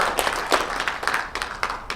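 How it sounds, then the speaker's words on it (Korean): Audience applause at a book launch and commemoration ceremony for the Declaration of Korean Independence, a brief patter of hands clapping in uneven bursts without speech. "박수 부탁드립니다."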